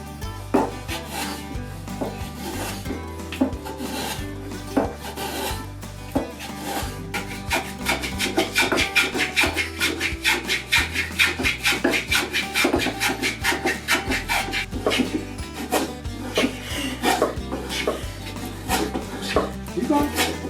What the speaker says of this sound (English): we'll do a little bit with the spoke shape and clean up the back and make it rounded